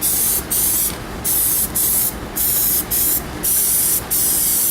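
Plasti Dip coating sprayed from a can onto car wheel rims in short, even hissing bursts, about seven quick passes with brief pauses between, close and clear with no talk.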